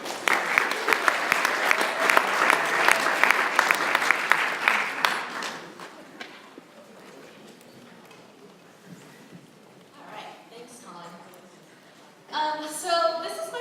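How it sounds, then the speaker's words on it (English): An audience at the Ballot Palooza event breaks into dense, lively applause that lasts about five seconds, then dies away to a quiet room where a few scattered claps and a voice come through. "Let's give her a round of applause."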